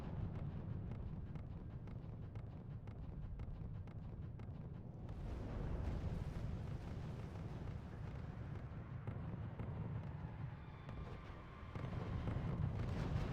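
Artillery barrage explosions in the real-time strategy game RUSE, a dense continuous rumble of blasts that swells louder partway through and again near the end, heard without talk.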